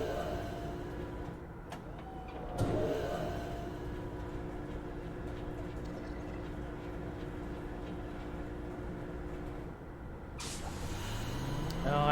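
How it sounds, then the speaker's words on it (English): A steady, droning mechanical exhaust hum in the puzzle game Myst, continuous and moderately loud, broken by a couple of sharp clanks and a rising whoosh near the end. "I only assume the exhaust noise means dead end."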